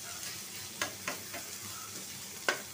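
Curry cooking on a home stove gives a soft, low background sizzle, broken by a few sharp scraping stirs and clinks of a spoon against the pot.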